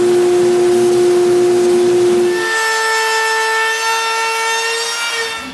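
Power sander smoothing the edges of a wooden trestle-style picnic table in a workshop, a loud steady whine that shifts pitch partway through and stays continuous to the end, with no talking.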